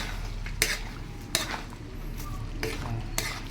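Ketchup sauce stirred in a pan makes a soft continuous scraping with a few distinct spoon knocks against the metal, heard close under a low background hum.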